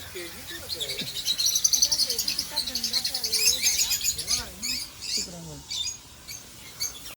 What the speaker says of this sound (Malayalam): കിളികൾ